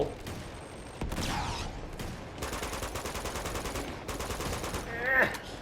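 Rapid gunfire bursts in the video game Uncharted 2, with dense crackling volleys filling most of the stretch and a louder burst near the end, while faint voices sit underneath.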